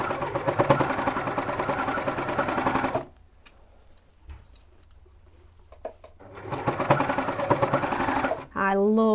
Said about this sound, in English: I love my Baby Lock overlocker.